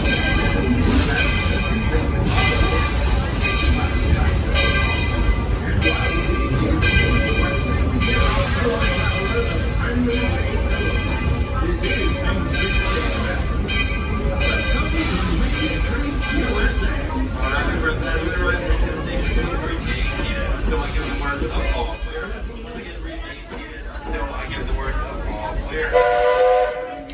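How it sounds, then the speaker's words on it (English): Walt Disney World Railroad locomotive #4, the Roy O. Disney steam engine, at a station platform, a steady rumble of the train with a whistle near the end while people talk nearby. "There you have it, the Royal Disney engine. Ready to pull out."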